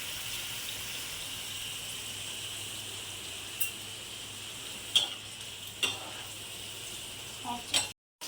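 Mushrooms fry in oil in a pan, giving a steady soft sizzle. A few sharp scrapes and taps from stirring come in the second half, and the sound cuts out briefly near the end.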